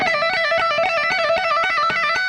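Fast electric guitar legato lick in steady sixteenth-note runs, bright sustained tones with a rapid metronome-like click ticking underneath throughout, close and loud with no talking.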